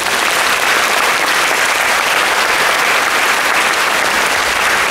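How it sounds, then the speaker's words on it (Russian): An audience at a children's festival gala applauding young participants, dense sustained clapping from a large crowd that stays loud and even from start to finish. "давайте вот похлопаем все вместе, поаплодируем нашим юным участникам"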